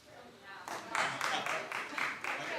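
A few hands clapping in a TV talk-show studio audience, around seven quick claps in a loose rhythm, moderately near, with a voice murmuring underneath.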